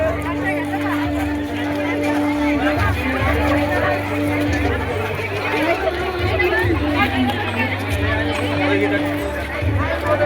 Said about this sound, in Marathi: आणि मित्रांनो गर्दी बघा किती मोठी.